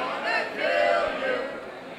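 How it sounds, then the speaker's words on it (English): A lively wrestling crowd at a Burger King of the Ring match roars and chatters continuously, a dense wash of cheering voices swelling midway and holding steady, loud and close with no single voice standing out. "Listen to these crowd. These people in this crowd, they're losing it."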